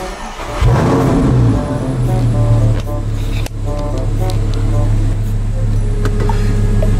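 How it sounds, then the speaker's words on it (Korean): Audi R8 Spyder convertible engine fires up and settles into a steady, loud idle-to-drive drone, close by, with a brief dip partway through and a voice speaking over it. "얼른 시동 걸고 빠져나가야 되겠어요."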